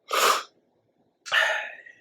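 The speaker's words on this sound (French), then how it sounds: "Je fais que éternuer." Two sneezes, close and loud, separated by about a second of silence; the second is longer and trails off with a breathy tail.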